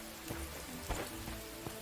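Steady rain falls in the Mordhau survival RPG mod, a dense, even hiss of drops hitting the ground with a few slightly louder patters, continuous and fairly close, with no talking.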